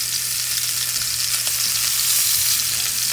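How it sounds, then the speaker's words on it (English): Steak sizzles steadily in a hot Stargazer cast iron skillet over medium-high heat indoors, a close, continuous bright hiss of frying with no talking. "Ooh, listen to that sizzle."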